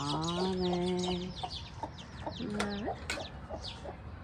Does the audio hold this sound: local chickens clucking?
yes